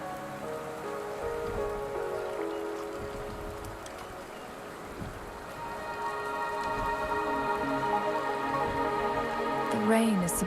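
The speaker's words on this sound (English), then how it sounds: "The rain is subsiding, and the sky will soon clear." Rain falls steadily in Wuthering Waves, a continuous soft hiss of drops on surfaces under layered sustained music tones, swelling slightly toward the end.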